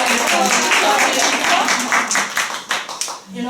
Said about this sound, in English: can we give them applause?